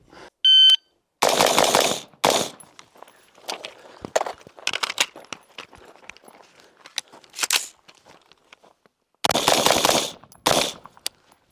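Rifle fire during range training with HK and Daniel Defense rifles: loud, close bursts of rapid shots separated by quieter gaps, and a short electronic beep near the start.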